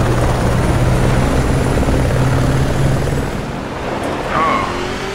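A helicopter in the off-road racing video game BAJA Edge of Control thunders loud and close, its steady rotor chop and engine roar dominating, easing slightly toward the end.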